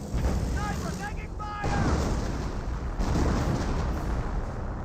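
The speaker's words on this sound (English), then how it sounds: "And more artillery running on in. Looks like a creep barrage." A creeping artillery barrage in Company of Heroes rumbles on as continuous, dense booms and explosions, a heavy wall of battle noise with brief voice calls near the start.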